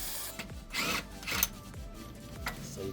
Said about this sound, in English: go at the bottom with the 90mm socket with the rigid impact wrench just like so